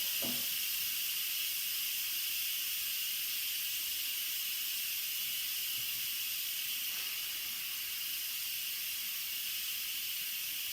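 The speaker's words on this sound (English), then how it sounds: "If you don't like touching the pressure valve, you can use a spoon and stand at a distance and release whatever pressure is left." Steam hissing steadily from a pressure cooker release valve, a continuous bright, loud hiss heard alone that barely changes over the whole stretch.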